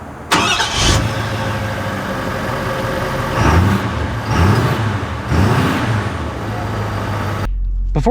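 A 2024 Ford Super Duty single-cab truck engine cranks and fires, then settles into a steady idle with a few revving swells, heard close and loud with no talking.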